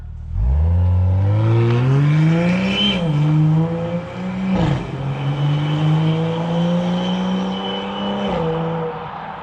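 A BMW X6 40i with a custom valved sport exhaust, valves open in Sport Plus mode, revs loudly and accelerates through gears, its deep exhaust note rising steadily with sharp shifts and popping crackles, close and continuous.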